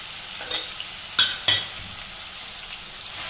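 Crushed ginger, garlic and green chilli sautéing in hot oil, a soft steady sizzle with a few sharp stirring clatters from a spoon in the pan, fairly quiet and close.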